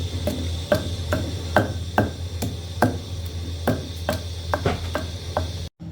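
A wooden dori danda mortar and pestle pounding ingredients while preparing chicken in a Pakistani kitchen, struck in a steady run of sharp, close thuds about two per second, ending in a brief drop-out.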